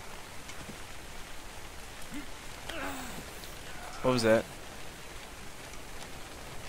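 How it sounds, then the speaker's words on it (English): Steady light rain hissing softly throughout in ARK: Survival Evolved, a constant faint wash with a few brief voice sounds and a short spoken question over it. "Maybe just the rain."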